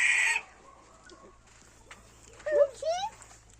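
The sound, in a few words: chickens clucking in a coop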